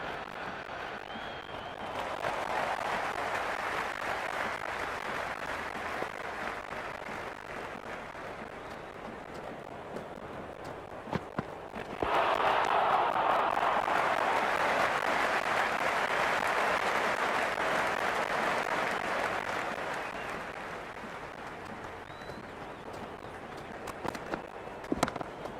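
Stadium crowd applause and cheering in the cricket video game Cricket 26, India vs Australia, a steady roar that swells louder midway through and then eases back, with no talk over it.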